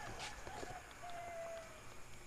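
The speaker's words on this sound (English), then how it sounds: "Heard a rooster out here" A rooster crowing at night in the Philippines, one drawn-out call heard faint and distant over a low hum of background noise.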